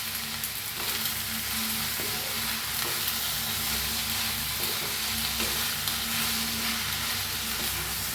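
Drumstick vegetable being stirred and fried in a pan, a steady soft sizzle with faint scraping of stirring throughout, close and even, with no talking.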